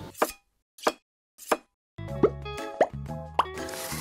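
Knife cutting raspberries for a clafoutis, three crisp separate chops on a board then a busier stretch of clinks and taps, close and fairly loud with no talking.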